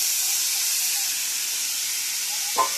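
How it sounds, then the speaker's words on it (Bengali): Meat sizzles in a hot wok, a steady bright hiss holding evenly throughout, with a single short clink near the end. "এবার ওই কড়াইতে দিয়ে দেবো মাংস।"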